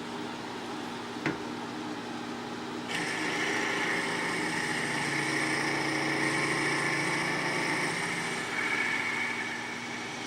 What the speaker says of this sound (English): Now we're going to drill through what we see as the upper bearing with a 3/16 inch bit